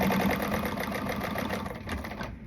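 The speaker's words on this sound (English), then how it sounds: "I'm going to go ahead and top stitch it at the up here, so that way it's closed off" A sewing machine top stitches fabric in a fast, continuous mechanical whir with a rapid rhythmic needle pulse. It runs loud and close, easing off slightly near the end.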